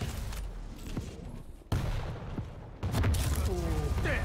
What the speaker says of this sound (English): Rockets from Aromat almost hit.